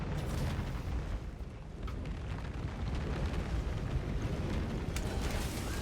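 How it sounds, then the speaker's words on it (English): Magma Worm chasing and leaping in Risk of Rain 2, a dense continuous rumbling eruption-like roar with bursts and crackles, loud and sustained throughout. "Magma Worm sees me, or the drone. That's the chasing sound, or the leaping sound."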